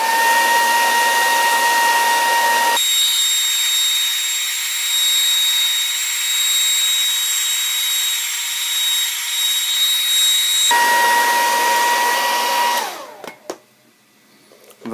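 A hair dryer runs steadily and loudly for a long stretch, heating the back of a Sony Xperia Z2 phone to loosen it for battery removal, its whine shifting in pitch midway before cutting off near the end.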